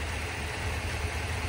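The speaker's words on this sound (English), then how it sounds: "at idle with the engine warm, we're at 22 1/4." A warm Ford 7.3 gasoline engine idles with a steady, even drone and a low rumble that holds constant throughout.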